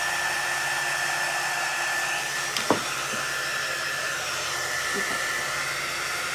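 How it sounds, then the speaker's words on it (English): A blow dryer roars steadily close by while drying a hat outdoors at a lake, a constant loud whoosh with a few faint knocks and one brief spoken word. "a blow dryer that pushes more heat"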